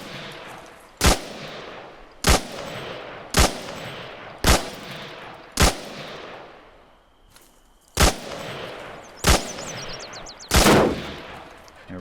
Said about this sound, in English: let's fire until we get a round that goes through